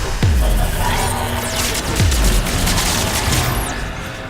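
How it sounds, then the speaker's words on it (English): A laser gun in Mass Effect 3 fires at blocks: three loud, separate blasts, each dropping sharply in pitch, over a constant roar of crackling game noise. "I am shooting blocks with my laser gun"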